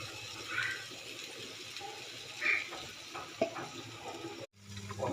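Ghee added to mutton in a hot pan, with a low sizzle and scraping stir strokes, a couple of brighter hisses and a brief sudden break near the end.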